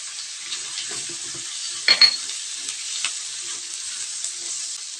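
Shrimp with garlic and onion frying in a pan, a steady close sizzle with brief stirring scrapes and a couple of louder clatters, no voices.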